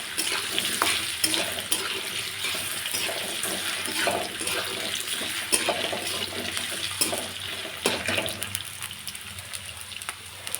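Potatoes with peas sautéing in oil in a pan, a soft continuous sizzle with frequent scraping and clinking stirs throughout, close but fairly quiet, no voices.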